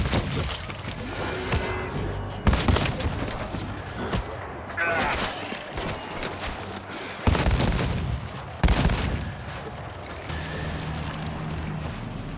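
Rapid automatic weapon fire in the World War Z zombie shooter, loud bursts and booms in a dense battle mix, with players talking over the chaos throughout.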